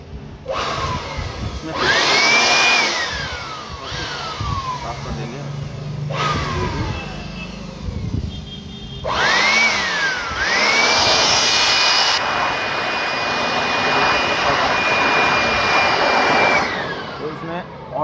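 Planet Power EBC 40N electric blower machine, with a worn armature, repeatedly switched on and off: each start whines up to a high motor pitch, then spins down, with a longer run near the end and faint voice in between.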